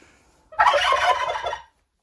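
A turkey gobbles once, a loud rapid rolling burst about a second long, close by and alone with no talk.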